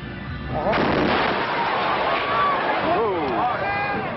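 A bomb explodes at night in Atlanta's Olympic Park during a rock concert, a sudden loud blast followed by sustained crowd roar and raised voices.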